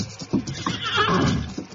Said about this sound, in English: Easy, Silver, easy. Look, Kimasabi. Horse stand under trees near trail